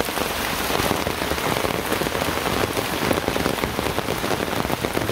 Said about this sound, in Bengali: দেখছেন কিরকম বৃষ্টি